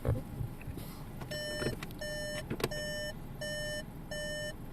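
A Volkswagen's aftermarket Android radio gives reverse parking beeps: a steady series of five evenly spaced electronic tones, fairly quiet, after a short rustle at the start.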